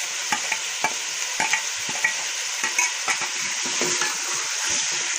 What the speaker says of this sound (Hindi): और इसी मुर्गी के साथ हम लहसुन को भी भून लेंगे।